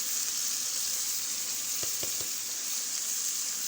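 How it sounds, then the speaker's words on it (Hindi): Ground tomato paste from four tomatoes hits a hot pan of chicken korma and sizzles loudly and steadily, with a few brief clinks near the middle and no talking. "अब हम इसमें टमाटर डाल देंगे।"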